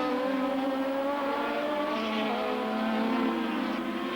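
A 1983 Australian Drivers Championship race car at Lakeside Raceway roars at sustained high revs, its engine drone steady and fairly distant with a slight pitch rise and fall as it passes.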